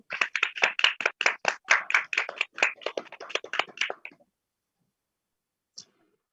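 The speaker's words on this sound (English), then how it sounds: "A huge round of applause for all who have spoken right now." A small summit audience at a felicitation ceremony claps for the speakers, sharp individual hand claps close by for about four seconds, then silence and one last stray clap.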